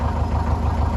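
A canal boat's engine idles with a steady, low, throbbing rumble close by, a brief unbroken stretch with no voices.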